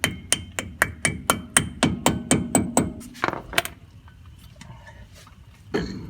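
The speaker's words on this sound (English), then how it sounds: "Light taps from a hammer should get the job done." A hammer gives a run of about a dozen light, evenly spaced metallic taps to seat a dust cap on a Ford Ranger front wheel hub, close and crisp, followed by a few scattered clinks and quieter handling.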